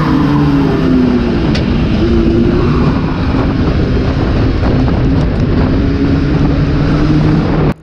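Stock car pulling away from the start line of a race on a rain-soaked track in first gear, engine tone rising steadily under heavy, continuous wind and spray noise, loud and close throughout.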